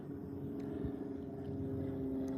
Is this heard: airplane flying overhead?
yes